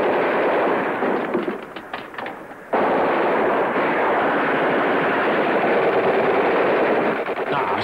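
Rapid gunfire from a 1952 film, a dense, loud burst of repeated shots that dips briefly and then resumes in a sustained volley, with no voices heard.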